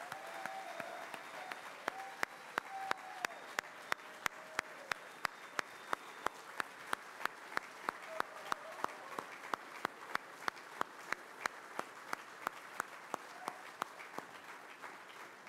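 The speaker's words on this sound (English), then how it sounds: "So let's give it a round of applause," Sustained audience applause at a State of the Nation 2022 gathering, a steady wash of many hands with sharp individual claps standing out at regular beats, moderately loud and continuing throughout without talk.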